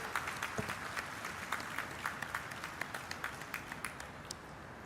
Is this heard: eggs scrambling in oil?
no